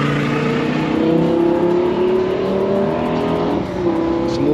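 A Lamborghini Gallardo engine revs hard and passes close on the Goodwood track, a loud sustained roar with pitch shifts as it changes gear.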